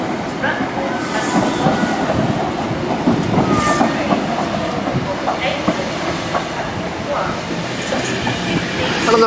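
A Greater Anglia service pulling into Chelmsford station, wheels clattering over rail joints with a rumbling, rhythmic clack and occasional faint squeals, close and loud throughout.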